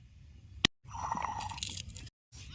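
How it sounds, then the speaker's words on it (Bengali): Dry-roasted spices crushed on a flat grinding stone give close, gritty crunching and scraping, one sharp knock followed by a steady grinding stretch, with brief pauses and no talking. "শুকনো পাটা এই বাইজের হা মশলাগুলো এখন গুঁড়া করে নেবো"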